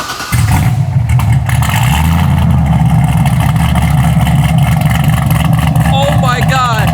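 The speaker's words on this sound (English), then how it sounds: "so just at idle, it's going to chop a little bit harder." A tuned 700-horsepower Corvette engine idles loudly and close by with a hard, lumpy chop that pulses in a steady uneven rhythm throughout, while people speak over it near the end.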